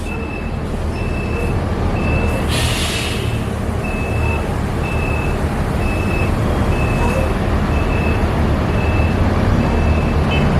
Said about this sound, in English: More buses backing up.